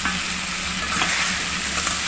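Potatoes and soybean chunks fry with spices in a pan, making a loud, dense, continuous sizzle close by with a soft stirring texture.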